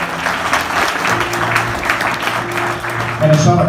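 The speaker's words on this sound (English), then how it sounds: "Another round of applause for Sumali." A church congregation breaks into steady, loud applause that continues throughout, with voices and cheering mixed in.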